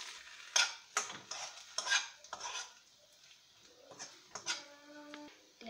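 Eggplant is stir-fried with garlic in a pan, heard as scraping and clinking utensil strokes over a soft sizzle, with a brief ringing metallic tap near the end.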